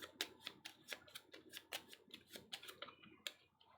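Gold cards from the Tenpenny Parks board game are shuffled by hand, making a quick run of soft, crisp riffling clicks close by and very quiet.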